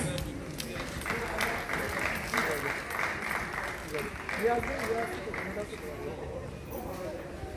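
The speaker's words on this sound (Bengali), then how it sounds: "হাততালিটা একটু জোরে হবে" An audience applauds at an OTT awards ceremony. The clapping is scattered and moderate and goes on without a break, while a host speaks over it.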